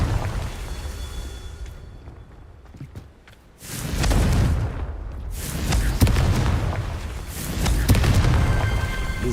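Confringo explosive spells cast in a video game: a couple of loud, booming blasts with rumbling tails, separated by a brief quieter gap, with no talking.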